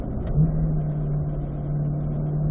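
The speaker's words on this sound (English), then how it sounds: "unwind out, rolling on throttle, fourth gear" A car accelerates in fourth gear on a race track, a steady, loud engine drone with a sustained tone that holds throughout.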